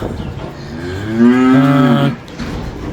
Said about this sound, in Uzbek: faqat paroda mol, oddiy hashaki mol nima qilishmaydi